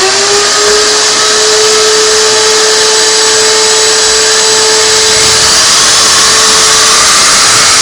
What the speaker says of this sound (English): I'm going to show you the right way to drill a hole in the ceiling.